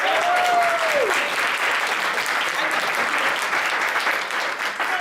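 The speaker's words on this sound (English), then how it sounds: "Give her a round of applause." An audience breaks into sustained, loud applause, dense clapping throughout with a brief whistle-like tone near the start.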